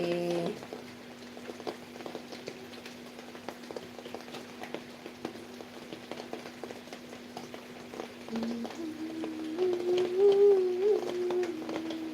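Rain patters steadily with scattered drips and taps, while a sustained tonal hum runs underneath and grows a little louder toward the end.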